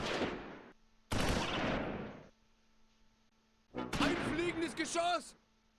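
Gunfire from the Close Combat IV World War II strategy game sounds in a few separate bursts of sharp cracks with decaying echoes, alongside a voice speaking near the end.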